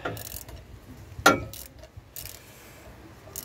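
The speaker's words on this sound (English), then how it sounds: "Always use a short socket when you might need a bit more pushing power on the bolt." A socket wrench ratchets on an engine rocker cover bolt, with a few short clicking bursts and one sharp metallic clack among faint workshop noise, heard close and without talk.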